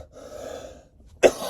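A single sharp cough bursts out near the end, after a stretch of faint breathy, throaty sound; no talking.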